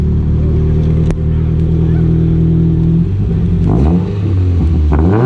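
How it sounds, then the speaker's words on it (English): A passing car's loud exhaust revs and rumbles nearby, a steady low drone that climbs in pitch as the engine accelerates. "Oh, that exhaust."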